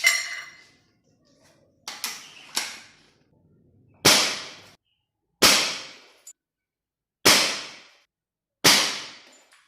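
A Hatsan mod.65 spring air rifle loaded with Pro Magnum pellets fires a series of six or seven sharp, loud cracks spaced a second or two apart, each trailing off in a short ringing echo.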